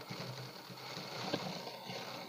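A sewing machine runs steadily stitching a pajama seam, a soft continuous mechanical whir with faint ticking, fairly quiet and unbroken throughout.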